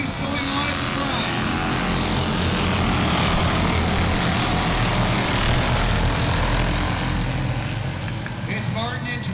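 Race cars at a short-track event at Sauble run hard down the back straight, a dense continuous engine roar filling the clip at steady loudness, with commentary talk over it.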